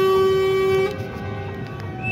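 Car horns honk amid crowds on a German street: one loud, sustained blast that cuts off, followed by fainter toots against a busy background, with no talk.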